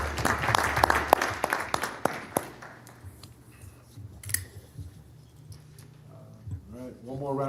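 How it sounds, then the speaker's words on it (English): Applause at a district board of health meeting, with crisp individual claps and taps in the first few seconds that thin out, followed by quieter room sound and a voice near the end. "one more round of applause, please, for all the new hires and retirees"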